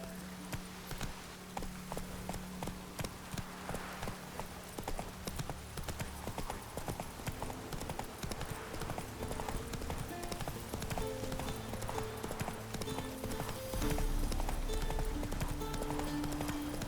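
Horse hooves gallop in a rapid, steady clip-clop rhythm across open ground in The Witcher 3, sustained and moderately close, with music and faint voices in the background.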